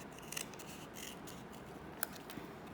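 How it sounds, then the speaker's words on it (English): Quiet snips of scissors trimming the edges of a paper art project, soft close cuts with a sharper click near the end and no talk. "So I'm just going to quickly trim the edges"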